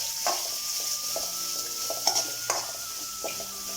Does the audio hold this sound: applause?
no